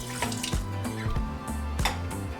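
Lime juice pours into a blender with chipotle chiles for crock pot barbacoa, a close, steady liquid splashing and trickling with a few brief glugs throughout.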